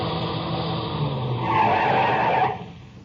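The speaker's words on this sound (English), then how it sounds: "I heard the whine of a car coming over the rise in the rough road" A car comes over a rise on a rough road at night and skids, tires squealing and engine whining in a rising burst that peaks and fades, staged as a radio drama effect with a steady background hiss.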